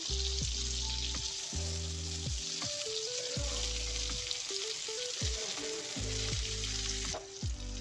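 Brinjal slices frying in a hot buttered pan for a cheesy chicken brinjal dish, a steady loud sizzle running throughout with pieces set down one after another, alone and close.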